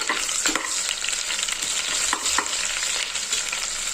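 Onions fry in hot oil with a bright, continuous sizzle, broken by occasional scraping strokes of a stirring spoon, close and steady with no talking.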